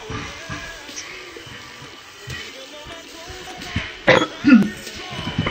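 A man with a cold coughs and clears his throat a few times near the end, close and harsh, after a stretch of quiet, muffled background sound from a basketball video game.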